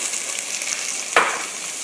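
Squash (kalabasa) drops into a hot frying pan for a vegetable coconut-milk stew, giving a sudden brief burst of sizzle over a steady background hiss of frying.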